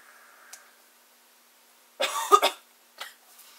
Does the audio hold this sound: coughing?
yes